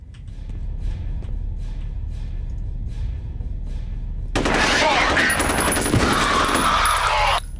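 Gunfire in the shooter FEAR: faint repeated shots under a steady rumble at first, then a sudden loud sustained barrage of automatic fire with ringing debris for the last few seconds, with no talking.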